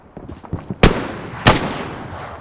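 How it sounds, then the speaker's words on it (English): Two sharp, loud gunshots ring out about half a second apart in Hell Let Loose as a firing squad executes someone, each with a short reverberant tail, following a few quieter thuds and footsteps. "Firing squad."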